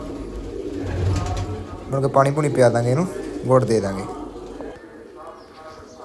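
Two pet pigeons, a blue hen and a red-winged one, cooing in soft low throaty rolls while a person talks loudly over them.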